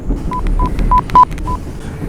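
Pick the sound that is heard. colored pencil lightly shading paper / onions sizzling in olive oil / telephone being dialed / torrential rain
telephone being dialed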